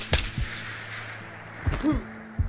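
Gunfire in the video game Ghosts of Tabor, a few sharp separate shots scattered across a couple of seconds with ringing tails and a metallic clang, loud and close against a quiet hum.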